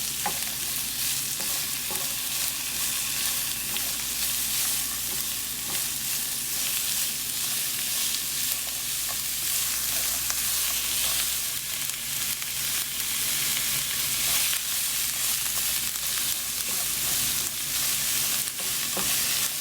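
Onions, shallots and green chillies fry in hot oil in a pan for a Kerala prawn roast, giving a loud, steady sizzle with stirring throughout and no talking.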